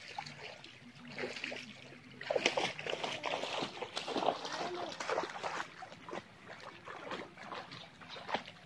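Splashing in a shallow stream with children bathing, irregular sloshes and trickling water close by, mixed with children's voices and chatter throughout.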